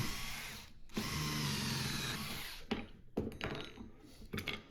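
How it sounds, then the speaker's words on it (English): Power drill boring pocket holes into two clamped wooden boards for a kitchen base cabinet: a long steady whine, then several shorter bursts with clunks between them, close and loud. "a good trick to get those pocket holes in is to just clamp two boards together"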